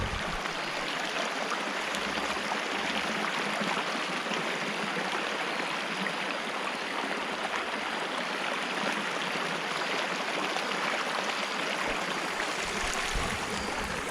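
A creek flows along a favorite stretch of streambed, a steady broadband rush of moving water heard close and continuous with no talking.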